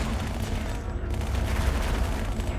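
Steady, dense gunfire from a backup gun in the video game Halo: Spartan Assault, with rapid overlapping shots and a booming low end throughout. Loud and continuous, with no speech.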